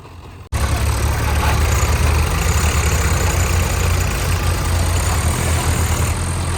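A tractor engine rumbles steadily at close range, starting abruptly and idling loud and unbroken throughout.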